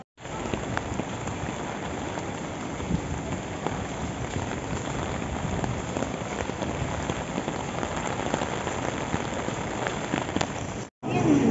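Steady rain pours down in Jiufen, Taiwan, a dense continuous patter on wet surfaces that holds at an even level for the whole stretch, with only a brief drop near the end.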